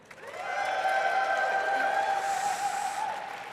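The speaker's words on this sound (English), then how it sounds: "And if you think this team did better," An audience cheers for a team at a Victorian parlour game championship, a sustained whooping crowd cry that swells quickly and holds steady for about three seconds before easing off.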